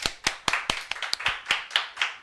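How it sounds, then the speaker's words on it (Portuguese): A few people clapping for a woman at a cooking show: sparse, distinct hand claps in a loose rhythm, about a dozen over two seconds, close and fairly quiet. "Aplauso para a senhora"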